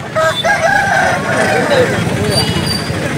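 At the Nellore Sunday chicken market, a rooster gives a loud, close crow with a rising then drawn-out call, set against busy market noise and people talking.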